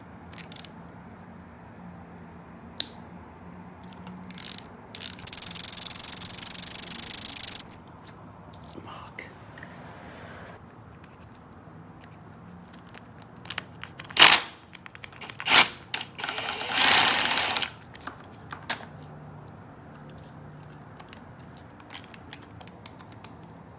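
Wrenches crack loose bolts on a Honda 400ex quad engine during timing chain work, giving scattered sharp clicks and short bursts of ratcheting, close up with quiet gaps between them.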